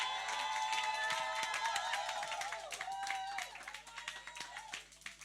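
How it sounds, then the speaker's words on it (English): An audience at a global summit applauds a speaker coming to the stage, with clapping and some cheering under a bright, ringing tone and voices, the applause strong at first and then tapering off over a few seconds. "Ladies and gentlemen, round of applause for Lloylette Stewart."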